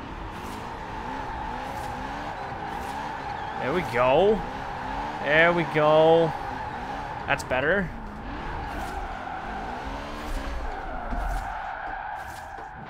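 Tires squeal in rising, warbling screeches as a car drifts all-wheel drive through city streets in Forza Horizon 4, played on a Logitech G920 wheel, over a steady engine drone, with someone talking briefly between slides.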